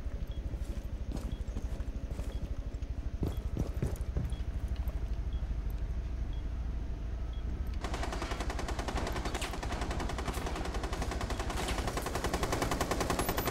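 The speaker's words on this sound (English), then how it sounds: "They're shooting from this hole right now." Rapid, sustained gunfire from the video game Rainbow Six Siege on the Border map in team deathmatch, dense repeated shots that grow harsher and louder midway, with no voices.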